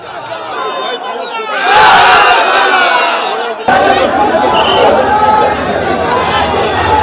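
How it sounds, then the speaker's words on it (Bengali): Crowd of rival party supporters outside a college strong room chanting competing slogans Joy Bangla and Jai Shri Ram, a loud dense mass of voices that surges sharply around two seconds and stays raucous and continuous. "তৃণমূলের জয় বাংলা স্লোগান আর তার পাল্টা জয় শ্রীরাম স্লোগান বিজেপি"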